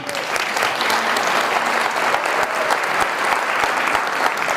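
Sustained audience applause fills the room at a Detroit Free Press Breakfast Club business event, dense steady clapping from a large seated crowd, loud and continuous with no talk over it.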